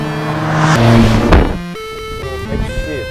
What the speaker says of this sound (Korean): 이게 지금 제가 가속 페달을 밟고 있는데